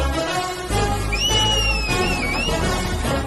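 A person gives a short, rising two-note whistle that is heard over a steady background hum, lasting about a second and a half.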